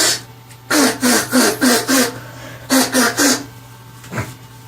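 A beatboxer imitates a duck's quack with the mouth: a series of raspy, nasal bursts in two rhythmic groups, close and loud, followed by a short breathy sound.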